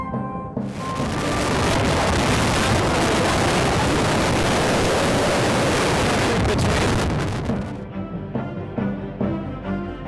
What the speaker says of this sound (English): Here's an example of how windy it is.